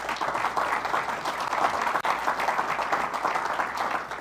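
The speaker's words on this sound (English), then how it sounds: "Let's give him a round of applause." Audience applause at a leadership conversation event, a steady dense wash of clapping throughout, loud and sustained with a brief dip midway.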